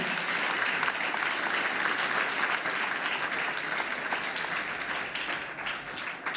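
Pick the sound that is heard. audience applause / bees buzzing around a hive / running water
audience applause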